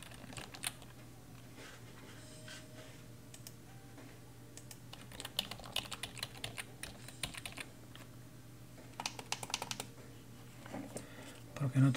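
Computer keyboard keys are pressed in irregular bursts of clicky typing, close and fairly faint, with a steady low hum underneath.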